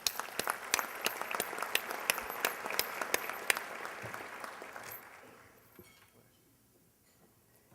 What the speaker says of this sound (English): let's give each other a big round of applause